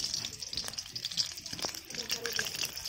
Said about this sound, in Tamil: இப்ப கடுகு நல்லா பொரிஞ்சிருச்சு